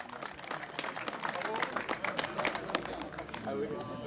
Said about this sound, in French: Les applaudissements pour la formation de Bourg-en-Bresse